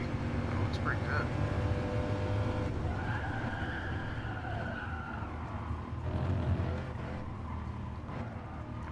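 A racing car engine roars steadily in the Gran Turismo video game, with tyre skidding mixed in during a car tryout; the sound is loud and continuous throughout with no pauses.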